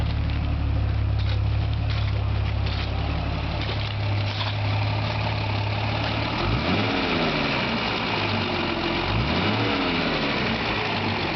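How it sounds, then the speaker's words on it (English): Rebuilt 1971 Mercedes-Benz 250C coupe engine running smoothly, a steady low idle for several seconds, then two rising revs that swell and fall back, close and loud with no talking. "Nice quiet running engine."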